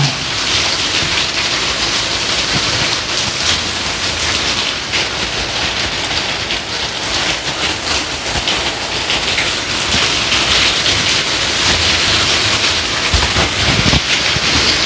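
Heavy rain pours steadily and loudly, a dense unbroken wash of drops hammering a surface that swells slightly toward the end, with no voices.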